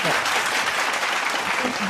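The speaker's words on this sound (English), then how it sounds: "Let's give him a big round of applause" A large audience applauds at a welcome program in the Philippines, dense and loud continuous clapping that fills the whole stretch with an even, sustained roar.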